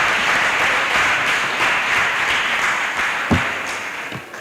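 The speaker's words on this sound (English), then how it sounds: "I want all of us to clap for the speakers on the floor for reaching this far into the tournament" An audience claps steadily for debate speakers on the floor at a school debate tournament finale between Parental Care P.S. Bushenyi and Mbarara Municipal School, a dense, even wash of applause with a couple of sharp thumps near the end.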